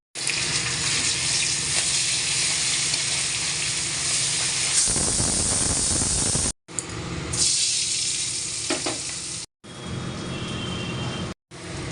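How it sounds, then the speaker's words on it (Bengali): Onions frying in oil in a pan give a continuous loud hiss and sizzle, broken by a few abrupt cuts, with a rougher crackling stretch midway. "পেঁয়াজটা ভাজা হয়ে গেছে, রসুন আর শুকনো লঙ্কা দিয়ে কষে নেব।"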